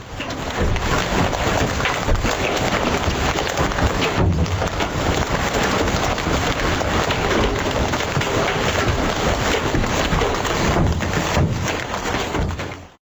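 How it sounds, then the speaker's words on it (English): A hailstorm pounds down on parked cars with a dense, steady roar of ice and rain striking metal and glass, loud and continuous for about thirteen seconds, with rumbling thunder blended into the wash. "Massive chunks of ice crashed down on the cars, denting them and shattering windows."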